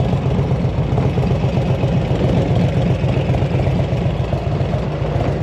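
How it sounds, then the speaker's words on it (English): A 1984 Harley Davidson FLT motorcycle, left sitting for 20 years, idles steadily with a loud, close, continuous rumbling throb and light mechanical clatter, with no voices. "She's fired, she idles, she ran good, no real issues."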